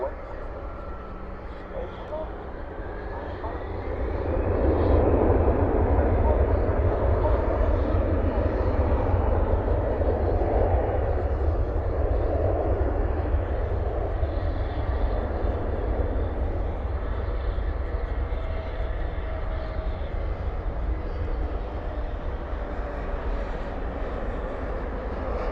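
An Airbus A320neo jet at DFW airport at night makes a steady, broad engine roar that swells after a few seconds and holds at a constant level, with a person talking over it.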